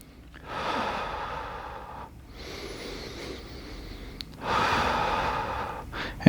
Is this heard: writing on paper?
no